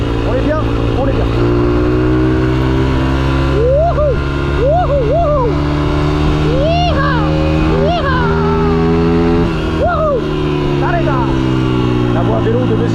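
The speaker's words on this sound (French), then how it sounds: "Attention les voitures." Cars and motorbikes pass along a busy street near Sunset, a steady engine hum under close, continuous conversation, with engine pitch rising and falling as vehicles go by.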